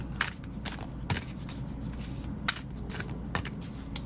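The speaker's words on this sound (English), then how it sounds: "Let's just shuffle." Tarot cards being shuffled by hand, a run of soft papery riffles and flutters with a few sharper snaps, close and fairly quiet, no voices.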